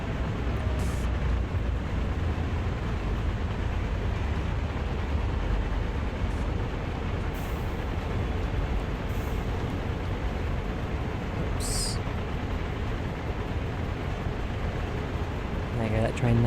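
Steady, heavy rumble of a train running along the Peninsular Corridor in Train Sim World, a dense continuous low drone with faint clicks, under someone talking.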